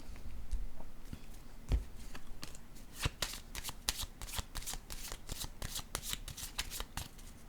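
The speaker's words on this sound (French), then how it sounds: "Je vais déposer une carte ici." Cards handled during a card reading, with one laid down on a surface: a close, steady run of crisp flicks, slaps and soft shuffling rustles across the whole stretch, with no talk.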